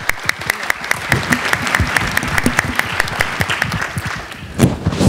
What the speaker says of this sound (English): I think he deserves a very good hand of applause as well.